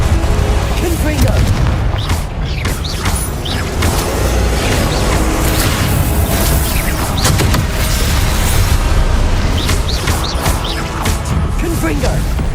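Confringo blasting spells explode in the Hogwarts Legacy video game, giving continuous loud booms and crashing impacts over dense battle noise, with a voice shouting over the din.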